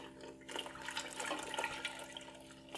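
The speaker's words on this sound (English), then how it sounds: "Try not to make a mess as I pour this." Liquid poured while making strawberry lemonade concentrate from homegrown lemons, a continuous splashing gush that starts abruptly and runs steadily for a couple of seconds, close and moderately loud over a faint electrical hum.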